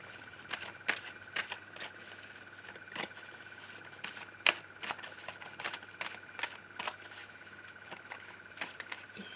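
Oracle cards are shuffled in a quiet room, giving a rapid, uneven run of crisp close-up flicks and taps over a faint steady tone.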